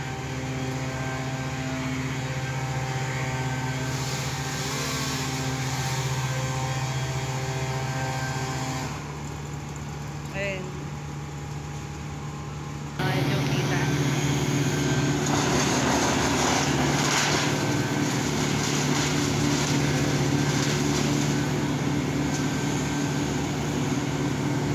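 A leaf blower drones steadily in the distance on a dusty street, briefly dropping off before resuming louder and continuing without pause.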